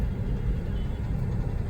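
Street traffic in India rumbles past, a dense low roar of engines and tyres that is loud and close and continuous for the whole short stretch, with no voices.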